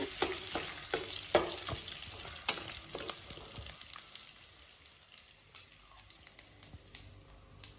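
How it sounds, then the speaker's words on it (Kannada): Asafoetida and spices fry in a little oil for mattar paneer, a close, crackling sizzle with sharp spits and stirring clatter that settles to a softer hiss; no one speaks. "ಸ್ವಲ್ಪ ಎಣ್ಣೆಯೊಳಗ ಹಿಂಗ್ ಕಳ್ಕೋಬೇಕು"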